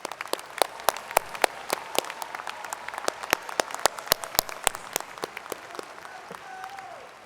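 Commencement audience applauding honors graduates at a university ceremony, sharp distinct claps from a nearby clapper over a broad crowd wash, steady and lively throughout.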